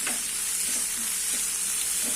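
Chopped tomato landing among vegetables frying in a pan for veg masala pulao: a steady, close sizzle with faint stirring scrapes throughout, no talking.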